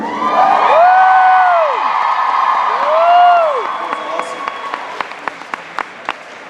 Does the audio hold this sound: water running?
no